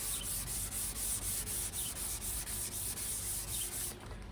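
Wet sanding a car headlight lens by hand: rhythmic back-and-forth rasping strokes, close and steady, about two per second, stopping just before the end.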